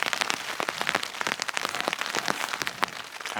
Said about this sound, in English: listen to it rain,